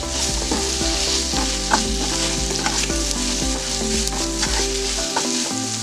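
Honey glazed chicken coated in sauces sizzles steadily in a pan while a utensil stirs it, with repeated scraping strokes over a continuous close frying hiss and no voices.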